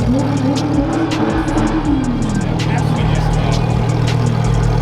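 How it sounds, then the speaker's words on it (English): A car's loud exhaust revs and rumbles close by at a car rally, engine pitch rising and falling, with traffic noise around it. "Someone tells me this exhaust does not stop."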